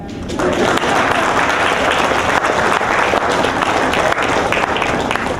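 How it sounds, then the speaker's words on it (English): Audience applause at the opening remarks of a university climate change talk: a dense, steady wash of many hands clapping that swells in after a brief moment and holds loud and even throughout, with no speech. "Let me hear you clap."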